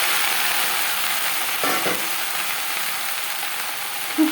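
Cut okra fries in a pan with cumin and chili, producing a steady, moderately loud sizzle with a brief stirring scrape in the middle.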